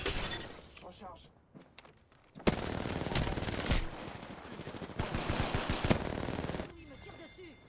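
Loud bursts of automatic gunfire with shattering impacts in the Apex Legends battle royale game, rapid rattling volleys across several seconds, with someone talking over parts of it.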